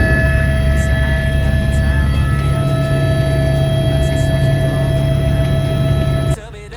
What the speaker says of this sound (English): Oh, finally I am in a helicopter.